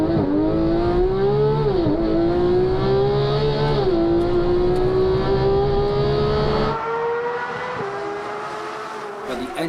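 Sports car engine revving hard while driving, a loud, steady tone that rises and falls with each throttle blip, close and continuous, easing off toward the end.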